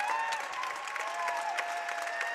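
A home crowd at a women's college basketball game gives a sustained ovation for a player about to shoot free throws, a steady, fairly distant roar of clapping and cheering with whistle-like tones above it.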